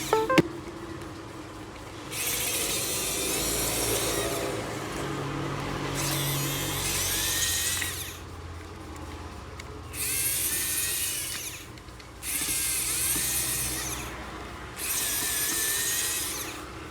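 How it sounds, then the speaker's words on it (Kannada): A small electric screwdriver backing screws out of a phone's display assembly, running in four separate whirring bursts of about two seconds each, close and steady, with short quiet gaps between them. "ಇದು ಸ್ಕ್ರೂ ಎಲ್ಲ ನೀಟಾಗಿ ರಿಮೂವ್ ಮಾಡ್ಕೋಬೇಕು."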